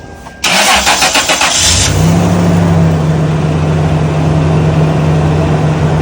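A third-generation Toyota 4Runner on 33-inch tires cranks with a rapid rhythmic starter whir for over a second, catches, and settles into a steady, close, loud idle with no talking.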